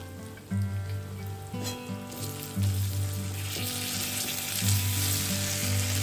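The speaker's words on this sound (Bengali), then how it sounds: "ডালের জন্য মাছের মাথাটা ভেজে নিচ্ছি" A fish head frying in oil for dal, a steady close crackling sizzle under a low tonal hum, the spitting hiss swelling louder partway through.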